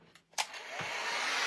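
A handheld hair dryer blows steadily at close range, a brief rough burst giving way to a continuous loud airy rush that holds to the end, with no voices.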